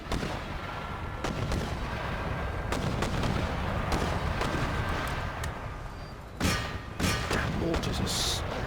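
Mortar and artillery fire from a battle in the strategy game Empire: Total War, a dense continuous din of booming shots and crackling gunfire with a few sharper blasts near the end, steady and loud throughout.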